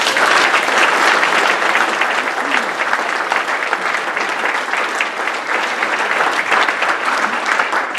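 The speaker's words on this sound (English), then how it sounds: "A big round of applause for John." Loud, sustained applause from a room full of people at a Caterham School gathering, clapping steadily throughout without a break.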